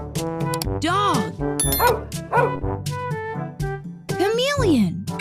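A dog gives several close yips and barks with whiny, rising-and-falling whimpers between them in an irregular, excited series, mixed with other animal sounds from a recording.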